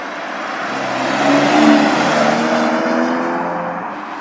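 A BMW X4 M Competition's M six-cylinder engine, running in M1 mode with Sport Plus settings, accelerates hard. The engine note swells and rises in pitch, then eases off, heard close from the car with no talk.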